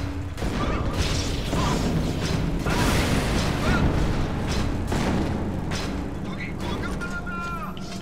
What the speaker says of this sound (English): EMP grenade.